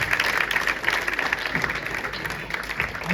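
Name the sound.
audience applause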